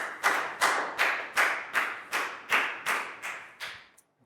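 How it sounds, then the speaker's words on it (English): A single pair of hands claps about ten times in a steady, even rhythm in a classroom, each clap sharp and close, with no voices. "High five and a big round of applause for Lakau"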